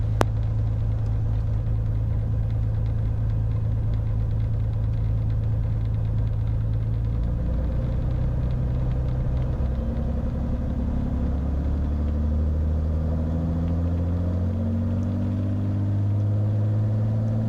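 A Bonanza airplane engine runs steadily before takeoff, a loud, continuous droning rumble whose pitch rises toward the end as power comes up, with no talking.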